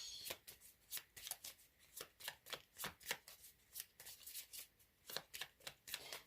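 Tarot cards are shuffled close by in quick riffling bursts with a steady, repeated rhythm of about two per second, with no talk.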